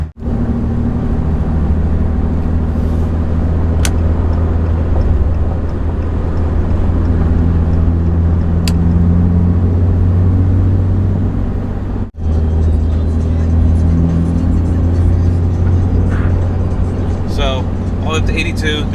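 A pickup truck cruising on a highway at about 80 mph, fitted with hub-centric rings to reduce vibration: steady loud cabin drone and road roar throughout, with one brief dip midway and occasional faint rattles.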